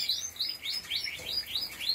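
Small birds chirp outdoors in the early morning, a quick run of bright, repeated tweets and trills close by, overlapping one another over a faint low background hum.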